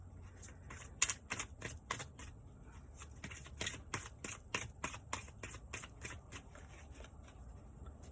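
A tarot deck is shuffled close up in quick bursts of crisp, rapid card flicks and snaps, loudest early and then settling into a softer, irregular riffle, with no voices.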